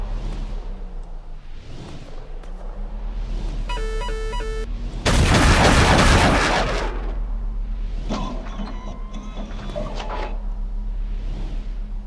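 Capital ship guns in the Angels Fall First space combat game fire in a loud, dense burst lasting about a second, set among rhythmic whooshing engine pulses and a short beeping sequence just before.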